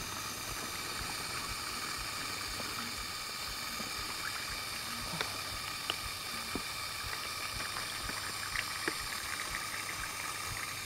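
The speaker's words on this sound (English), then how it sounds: "put water in, maybe it'll kind of push its way down the rest of the way" Water poured into a tube set in garden soil, a steady, unbroken trickling and gurgling flow heard close up at moderate level for several seconds, with no talk over it.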